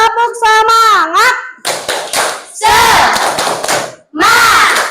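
Classroom children doing a rhythmic 'tepuk semangat' clapping game, loud bursts of patterned hand claps alternating with the children chanting in unison, close and energetic.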